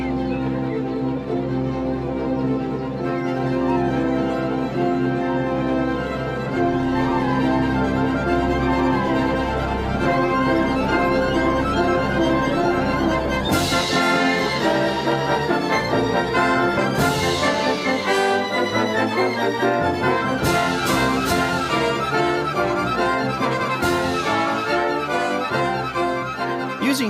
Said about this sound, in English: it's impossible to create a big orchestral sound like this